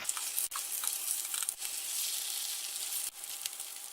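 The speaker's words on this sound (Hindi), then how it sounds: "अब इनको पलटी करेंगे और दोनों तरफ से गोल्डन ब्राउन होने तक फ्राई करेंगे।" Paneer cubes frying in hot oil for chilli paneer give a steady, close, bright sizzle with crackling spatters throughout and no talking.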